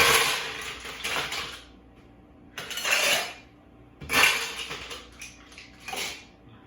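Ice cubes added to a cocktail shaker while mixing a drink with lemon juice, heard as three clattering bursts of cubes striking metal, close and clear with quiet gaps between.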